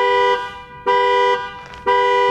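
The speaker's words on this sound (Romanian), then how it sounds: "Asta face butonul ăsta, e buton de panică." A Volvo V60 T6 AWD's horn, set off by the key fob panic button, blares in three loud, evenly spaced honks, each about half a second long, with brief gaps between them.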